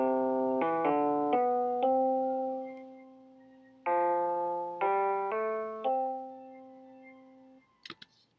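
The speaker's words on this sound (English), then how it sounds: "An example of this, using the notes chosen only," A simple melody built from a small set of class-chosen notes, played as clean electronic tones, two short phrases of several notes each with long held final notes fading out, alone without talk.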